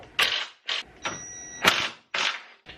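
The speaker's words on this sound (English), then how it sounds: "I'm going to unbolt, just take those two bolts here from the power steering" Bolts being removed from the power steering in a BMW E46 engine bay during an engine pull, heard as several short metallic ratcheting and clanking bursts separated by brief pauses, fairly close and with no talking.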